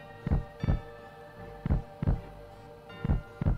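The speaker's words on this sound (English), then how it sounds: "Is that supposed to be a heartbeat?" Heartbeat sound effect from the video game Final Fantasy 7, six deep muffled thumps in three evenly spaced lub-dub pairs over a low steady hum, with no talking.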